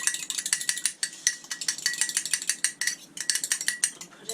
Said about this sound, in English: going to scramble my egg